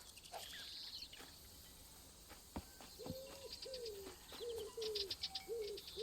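A common wood pigeon cooing in the wildlife game Alba: A Wildlife Adventure, a series of soft rhythmic coos against faint ambient birdsong, quiet and somewhat distant.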